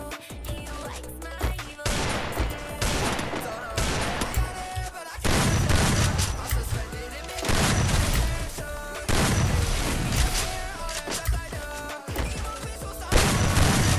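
Repeated bursts of gunfire from the battle royale game Free Fire, loud, dense volleys and single shots spread across the whole stretch with short lulls between them.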